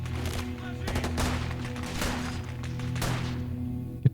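An MG34 machine gun in the game Gates of Hell rattles in sustained bursts of rapid fire, loud and close, amid battlefield noise.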